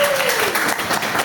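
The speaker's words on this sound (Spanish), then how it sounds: "Y un aplauso más fuerte para todos ustedes." Brief, steady applause from a lecture-hall audience at the end of an immunology class, with a voice sounding faintly over the dense clapping.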